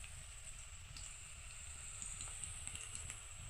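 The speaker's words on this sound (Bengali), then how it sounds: "এদিকে পেঁয়াজটা আমি হালকা করে ভেজে নিচ্ছি" Onion frying lightly in a pan gives a steady, soft sizzle with faint crackles, continuous and fairly close, with no voices over it.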